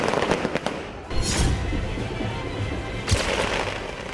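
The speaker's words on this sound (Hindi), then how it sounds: "कार्यकर्ताओं ने जमकर आतिशबाजी की।" Fireworks set off by Congress party workers celebrating an election win at the Hyderabad headquarters crackle and burst in a dense, continuous barrage, with louder blasts standing out, close and loud.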